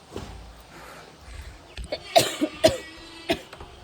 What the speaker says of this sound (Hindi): मेरे को तो खांसी बढ़ने लग गई